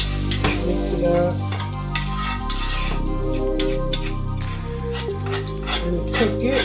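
Flour stirred into hot oil in a pan for a Cajun shrimp pasta, giving a steady close sizzle with scraping strokes over a background of tonal music.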